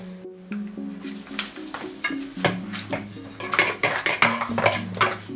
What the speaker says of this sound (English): So add your garlic and your cumin powder and then you mash it up.